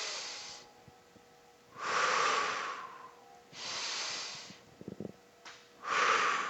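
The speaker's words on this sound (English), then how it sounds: "The emphasis in breathing in this case is going to be on expanding the thoracic cage." Slow, deep breaths in a breathing exercise that expands the chest: four long, airy breaths come in steady succession, close and clear, with quiet pauses between them and a few soft sniffs.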